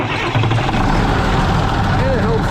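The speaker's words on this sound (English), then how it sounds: "today we're firing up. We gotta warm up the tractor here" A 2670 tractor engine runs steadily at idle while warming up after being fired up, a dense continuous rumble close by with faint voice-like tones underneath.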